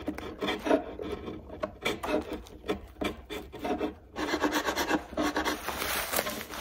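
Epoxy being scraped off a wood surface, a rapid series of rasping strokes with short pauses between bursts, close and fairly loud, with no talking.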